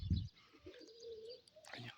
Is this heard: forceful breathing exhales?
no